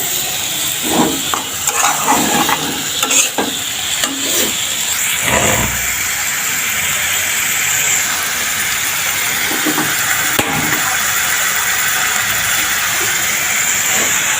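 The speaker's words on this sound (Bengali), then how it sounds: "এখন আমি ডাটা আর আলু দিয়ে দিলাম। এটা ভালোভাবে কষিয়ে তারপর ঝোল দিয়ে দেব।" Tomato, vegetable stems and potato sautéing in a pan at home, a steady broadband sizzle and hiss running throughout with occasional clatters and scrapes of a utensil, no talking.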